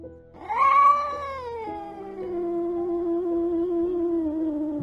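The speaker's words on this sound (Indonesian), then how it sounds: "Tiba-tiba Ireng mengeong, seperti ketakutan." A cat lets out one long, drawn-out meow that rises and then settles into a sustained fearful wail, close and clear with no talking.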